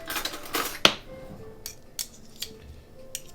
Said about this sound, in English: I'm just going to put some butter in it just to mix it through